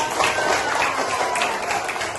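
A sixth-grade class applauding in an Indonesian primary school classroom, a short burst of dense, even clapping from many hands at close range.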